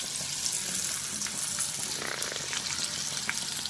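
Sliced okra goes into a frying pan of sizzling onions for a Kerala-style pepper bhindi fry, giving a steady, loud, close hiss of frying oil that carries through without pause.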